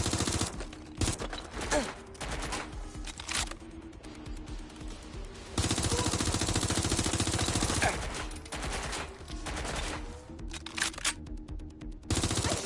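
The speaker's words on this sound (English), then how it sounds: "Gunfire!" Sustained automatic gunfire from the video game Watch Dogs 2, with dense bursts of rapid shots and a few sharp single cracks, loud and continuous throughout.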